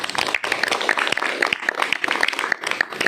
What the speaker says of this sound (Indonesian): Tepuk tangan dulu kalau sekolah.